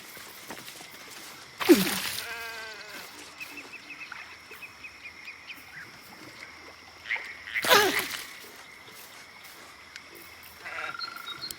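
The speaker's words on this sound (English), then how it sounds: "The sheep's voice warbles." A warbling, wavering sheep bleat from the video game Baldur's Gate 3, sounding twice with quiet electronic tones between.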